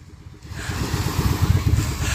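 An engine catching and starting up, a quiet moment followed by a steady rhythmic low chugging idle that grows louder and keeps running close by, no talk.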